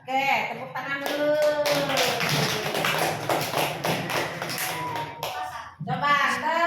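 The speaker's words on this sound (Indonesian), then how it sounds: "Oke, tepuk tangan dulu." A group of children clap their hands in a loud, busy burst, with voices mixed in throughout.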